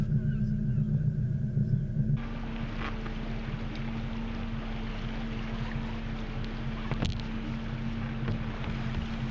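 A motorboat leaving the pontoon at Newhaven Harbour, its engine holding a steady low drone under wind buffeting the microphone, with the tone shifting after a couple of seconds as it gets under way.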